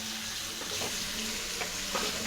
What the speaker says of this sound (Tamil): நல்லா கிளறி விட்டுட்டே இருங்க.